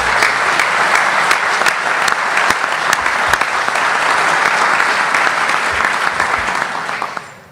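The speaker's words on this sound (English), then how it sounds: "So I'd like you to give Spencer, our parliamentarian, a big round of applause" Sustained, loud round of applause from an audience at a convention simulation, dense steady clapping filling the room for several seconds before tapering off at the end.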